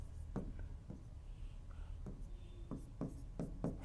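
Chalk or marker taps and short strokes as an equation is written on a board, coming as a quiet, irregular series of brief ticks over a faint room hum.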